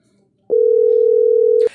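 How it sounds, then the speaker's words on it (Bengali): A telephone call is placed, and a single steady, loud tone from the phone line sounds for just over a second before cutting off abruptly. "সুমনকে ফোন করি।"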